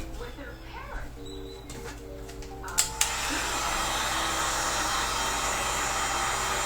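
A heat gun blows steadily and loudly while gently warming a PVC bow limb for a Turkish war-bow, switching on about three seconds in after a couple of sharp clicks, with a faint voice beforehand.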